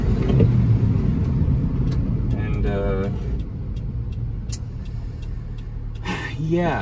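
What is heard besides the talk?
Kei truck engine driving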